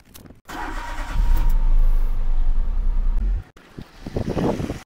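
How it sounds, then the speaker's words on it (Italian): A car engine cranks and starts during a battery start test, rising into a loud, close rumble that settles for a couple of seconds before cutting off, then gives way to quieter wind-buffeted handling noise. "ok, avvia il motore."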